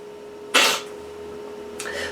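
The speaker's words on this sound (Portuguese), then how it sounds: "O nariz é grande, o espirro é potente." A man's single loud, forceful sneeze, close and abrupt, followed by a softer exhale or vocal sound a second later over a steady background hum.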